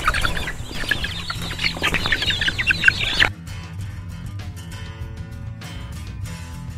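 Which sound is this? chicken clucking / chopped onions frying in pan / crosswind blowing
chicken clucking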